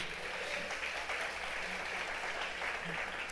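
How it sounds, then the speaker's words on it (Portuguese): Congregation in a church service applauding together, a steady dense wash of clapping that fills the space at moderate level with faint voices mixed underneath. "Aplauda a Jesus."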